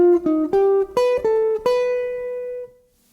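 A single-note jazz line built from melodic minor notes, played on a pitched instrument as seven or eight clean, separate notes rising stepwise, with the last note ringing out and fading. No voices.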